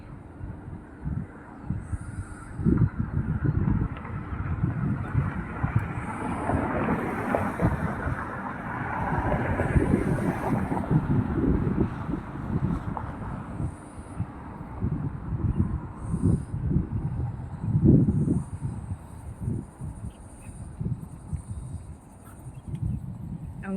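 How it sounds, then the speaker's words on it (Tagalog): Strong cold wind roars across an open sunny hilltop, buffeting the microphone in steady loud gusts with deep rumbling surges throughout, no voices. "Wow. It's windy."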